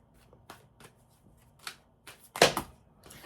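Tarot cards are shuffled by hand in a series of quick, close riffles and slaps, irregular bursts with one louder flurry near the end, without talking.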